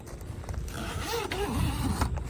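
Zipper on a fabric storage bag hung in a van being drawn down, a soft continuous rasping slide heard close up and fairly quiet, with no voices.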